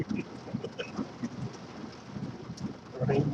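Steady rain falls across a broad wash of patter with scattered nearby drops, filling the whole stretch evenly at a soft-to-moderate level with no voices.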